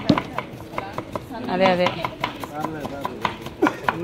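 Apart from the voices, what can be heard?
chopping onions with a knife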